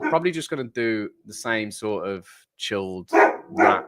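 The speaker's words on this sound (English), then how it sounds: "If you can hear her barking again, I do apologize." A dog barks a few times nearby, the sharp yaps mixed in with someone talking steadily over them.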